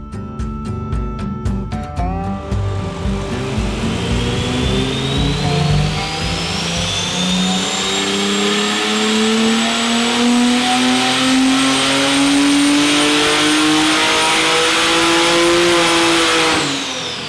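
A Buick Stage II V6 turbo Indycar engine on a dyno, loud and close, rising from a choppy idle into a long sustained rev that climbs steadily in pitch for about fifteen seconds before cutting off, with no voices.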